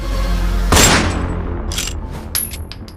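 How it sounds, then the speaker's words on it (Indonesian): Pistol shot in a horror story: a single loud, sharp bang rings out near the start and decays into a short echoing tail, followed by a few light metallic clinks. "Laras emosi dan menarik pelatuk pistol itu."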